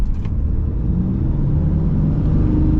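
A 2026 Ram 2500 Black Express diesel pickup with an 8-speed transmission pulls hard under acceleration, a steady, loud low engine rumble and road roar holding throughout with no talking.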